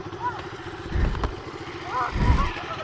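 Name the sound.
small motorcycle engine running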